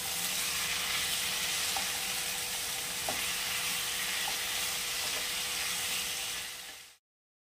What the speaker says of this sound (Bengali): ভালো করে আবার এটা কষিয়ে নেব